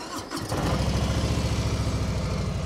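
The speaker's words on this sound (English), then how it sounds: "Let's go ahead and start this thing up so you can hear it." A 2021 Harley-Davidson Softail Slim motorcycle engine cranks and fires, then settles into a steady, loud, lumpy idle with a regular pulsing beat, close up and with no talking.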